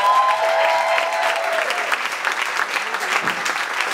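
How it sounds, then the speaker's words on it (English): Audience applause at a poetry jam night fills the room with dense, steady clapping from a crowd, loud and continuous throughout, with some voices mixed in beneath it. "Give this young brother a round of applause"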